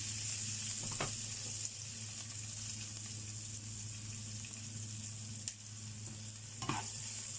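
Onions stir-fry in a pan with a steady sizzle, broken by a few sharp scrapes and clinks of a utensil stirring them.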